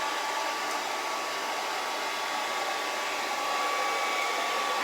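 A hair dryer fitted with a silicone diffuser runs on high speed at medium heat, a loud, constant close-up whoosh with a steady motor whine and no talking.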